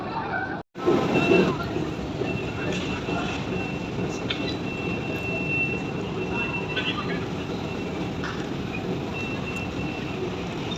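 An underground train rumbles steadily through a century-old London metro station, a loud continuous roar with a brief dropout near the start and faint higher squeals riding on top.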